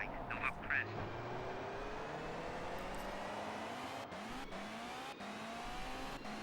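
A Lancia Stratos rally car in Colin McRae Rally 2.0 revs and accelerates through repeated gear changes, with the engine note climbing and dropping several times amid faint tire noise, and a voice speaks over it.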